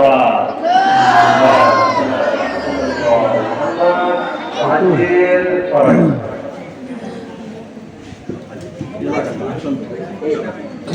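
A crowd at a religious gathering responds together with a loud, prolonged communal chant of salawat, many voices shouting in unison, swelling and then fading into scattered calls and chatter.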